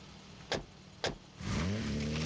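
A car in a film scene: two sharp thumps, then the engine comes to life with a rising, steady hum up close, with no speech.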